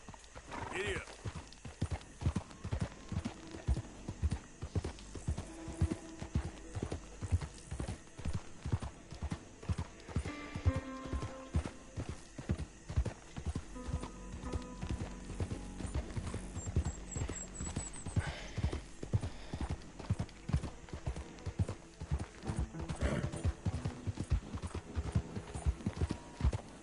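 A horse gallops in Red Dead Redemption 2, its rapid hoofbeats drumming steadily throughout with an occasional whinny, while someone talks over the game sound.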